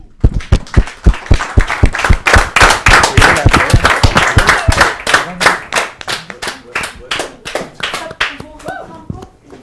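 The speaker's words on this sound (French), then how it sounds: "j'aimerais que tout le monde les applaudisse très très fort" Clapping for a group of young basketball players, a loud run of sharp hand claps that starts dense and steady and then thins to scattered, slower claps near the end, with a voice speaking faintly underneath.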